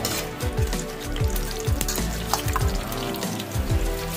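Fish fry in a pan with a loud, continuous sizzle and spitting crackle, accompanied by rhythmic low thumping motion and splashy, watery background noise, no speech.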